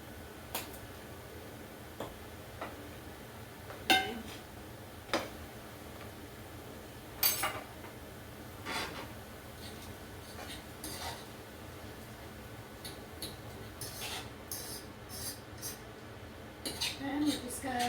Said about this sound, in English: And we're just going to mix it around and just brown it like we would the normal ground beef